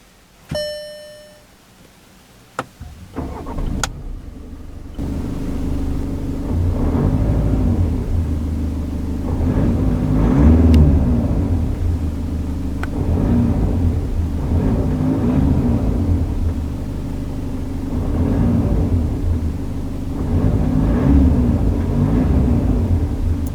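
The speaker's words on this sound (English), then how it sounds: "So let's power on the Passat and see how it sounds." A chime sounds, then a 2015 Volkswagen Passat B8 engine cranks and settles into a low rumbling idle, with several slow revs rising and falling, close and loud.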